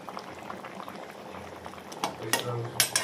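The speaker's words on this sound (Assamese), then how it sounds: "অলপ দেৰি সিজাম, কাৰণ মাছখিনি অলৰেডি সিজি আছে" Fish and potatoes simmer in a pot, bubbling and gurgling steadily up close, with occasional soft utensil clinks and a brief stir near the end, and no talk.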